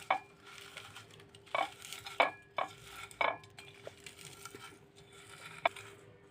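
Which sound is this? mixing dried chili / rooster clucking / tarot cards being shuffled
mixing dried chili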